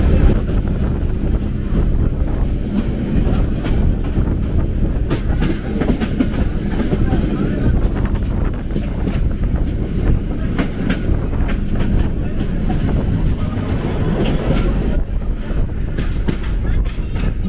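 Onboard a train passing the Dhaka-Sylhet Jayantika Express, a continuous loud rumble and rattle of rolling carriages with faint clicking of wheels over rail joints and wind buffeting throughout.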